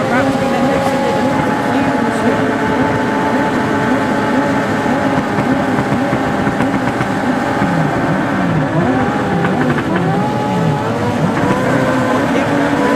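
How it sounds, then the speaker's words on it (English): A big grid of motorbike-engined rallycross cars races at Lydden Hill in a 2WD rallycross meeting, their engines droning loud and steady with rising and falling revs layered over one another throughout. "A big grid of motorbike engine cross cars are about to be let loose in Lydden."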